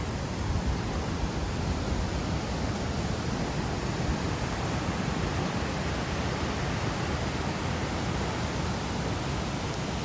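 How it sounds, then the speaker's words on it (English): River rapids on the Alice Toxaway Loop in Idaho's Sawtooth Mountains give a steady, broad, unbroken rush of water that stays even throughout, with no voices. "So that's rapids over here."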